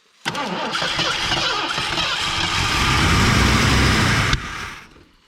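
An old 302 engine in a car from an abandoned car graveyard cranks and catches, then runs roughly and loudly for several seconds, rising slightly before abruptly cutting out and fading.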